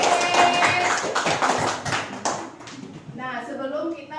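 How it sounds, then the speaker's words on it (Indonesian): Students applauding in a seventh-grade junior high classroom, a burst of fairly close, dense clapping lasting a few seconds that thins out, while children's voices chatter over and after it. "tepuk tangan"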